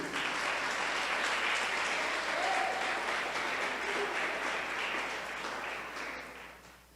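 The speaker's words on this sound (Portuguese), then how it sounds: "Aplauda Ele por isso." Sustained applause from a church congregation, steady and full for several seconds before fading toward the end.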